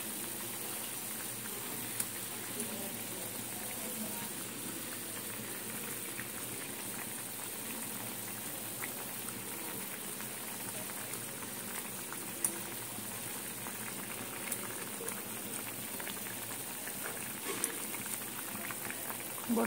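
A pan of tomato-based curry sauce bubbles at a steady, gentle boil, a continuous soft liquid churning with occasional small pops and no talking.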